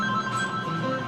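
A telephone rings steadily with an electronic tone at a pizza restaurant in Montana as phone orders come in, the ring clear and continuous over a faint room background.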